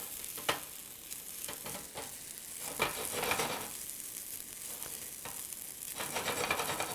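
Breadcrumbs frying in olive oil in a pan give a steady, close sizzle that swells and eases as they are stirred, with scraping strokes and no voices.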